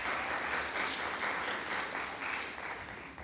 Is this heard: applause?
yes